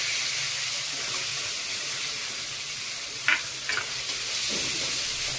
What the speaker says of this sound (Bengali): পেঁয়াজটা দিয়ে কষিয়ে নাও। একটু ভাজি।